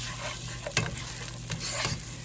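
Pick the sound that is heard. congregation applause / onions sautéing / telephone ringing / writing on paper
onions sautéing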